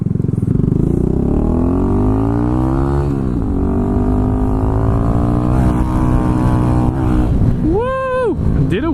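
Kawasaki Z125 motorcycle exhaust droning loud and steady throughout as the small bike rides over jumps and pops a wheelie, with engine pitch rising and falling and a sharp revving sweep near the end.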